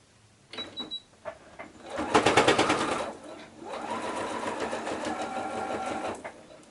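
A sewing machine top-stitches a tote bag made from shirt scraps, starting with a few clicks and short stitches, then a fast loud run and a steadier, slower stitching stretch, close and alone.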